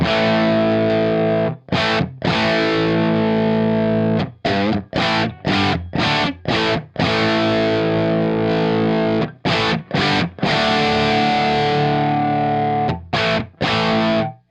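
Distorted electric guitar played through an Echoplex preamp pedal used as a boost with the loop on, loud sustained chords with several short stops and restarts, alone.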